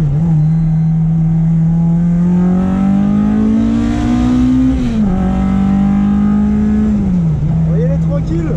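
A Mazda RX7 driven hard on a race track gives a loud, continuous engine drone that climbs slowly in pitch, then dips briefly as the revs change at two points before settling back.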